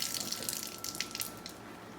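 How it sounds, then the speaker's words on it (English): Hands are washed under a running kitchen tap, a steady close rush of water splashing into the sink with small shifts as the hands move, lasting about two seconds without speech. "Gonna wash my hands."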